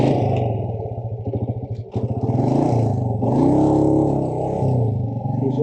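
A motorcycle rides over a rough, rocky mountain road near Shandur Top in the northern areas, its engine rumbling loudly and steadily with uneven revs and clattering jolts from the terrain, close up and without voices.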